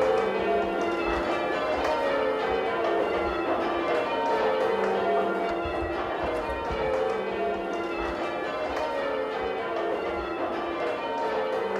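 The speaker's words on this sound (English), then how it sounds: "I'm going to now partake in a spot of bell ringing with one of the local groups." Church tower bells peal continuously in a steady, overlapping rhythm, bright and ringing, with no voices, in Scunthorpe.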